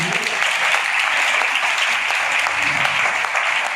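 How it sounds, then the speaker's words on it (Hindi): A congregation at a church healing meeting claps loudly and continuously, a dense, bright, unbroken wall of applause from many people. "और मिलकर जोरदार तालियां दें"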